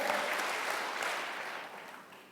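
A church congregation claps in sustained, dense applause that gradually fades toward the end.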